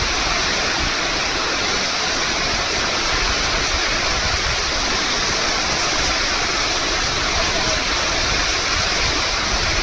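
Mountain water runs down from the hills on the road between Munsiyari and Bageshwar Dham, a steady, dense rush of flowing water that fills the whole stretch without a break.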